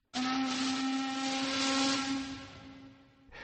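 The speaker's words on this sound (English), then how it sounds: "The whistle screeched out noisily." A steam whistle on a river steamboat screeches in one loud, sustained blast of about three seconds, fading slightly before it cuts off abruptly.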